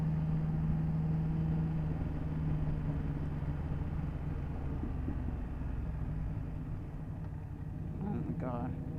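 A 2024 BMW F 800 GS motorcycle being ridden, its engine giving a steady low rumble with wind noise throughout, while a rider talks over it near the end.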